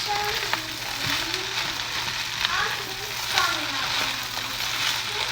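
Bacon fried rice sizzles steadily in a hot pan as it is left to crisp on the bottom, a continuous close frying hiss with occasional faint stirring scrapes.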